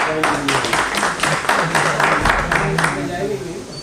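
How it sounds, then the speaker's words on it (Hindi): An audience at a one-day training programme claps for Sharma ji, a burst of many hands applauding close and loud that tapers off near the end, with some voices underneath. "तो शर्मा जी की तालियां"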